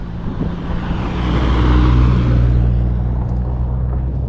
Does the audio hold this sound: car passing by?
yes